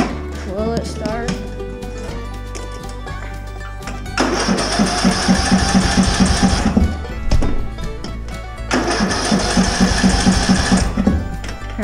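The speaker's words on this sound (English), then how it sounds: "let's start it up, check the engine." Riding lawn mower engine being started in snow, with repeated cranking bursts that catch into a loud, rapid mechanical chatter, then a pause and a second cranking attempt, with low engine rumble throughout.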